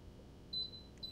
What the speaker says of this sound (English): you can hear it beeping. It's telling me that it's within 60 seconds of getting to temperature